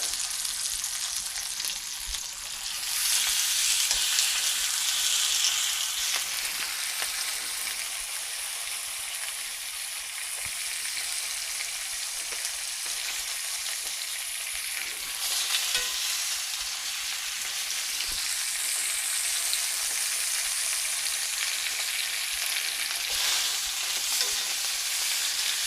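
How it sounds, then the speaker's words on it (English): Chicken thighs sizzle loudly in a hot pan, a continuous crackling fry that holds steady throughout with occasional swells and small pops, no talking. "When you get it on there nice and hot and hear that sizzle"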